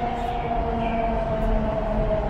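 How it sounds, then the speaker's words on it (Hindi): A Delhi Metro train pulls into the station with a loud, steady rumble and a sustained motor whine that holds evenly the whole time, with no talk over it. "और गाइस हमारी मेट्रो आ चुकी है"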